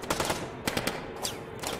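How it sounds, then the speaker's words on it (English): Rapid bursts of submachine gun fire crack out in quick successive volleys, sharp and echoing as if off surrounding walls, with brief gaps between the rattling strings of shots and no voices. "gunfire echoed off the walls as fierce flashes of fire erupted from their submachine guns"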